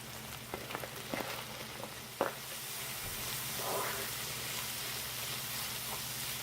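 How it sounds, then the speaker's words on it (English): Sweet peppers stirred into a bean mixture sizzle and fry steadily in a hot pan, a soft continuous hiss with a few faint clicks of a utensil early on. "I'm going to add my sweet peppers to my bean mixture and cook those till they're slightly tender"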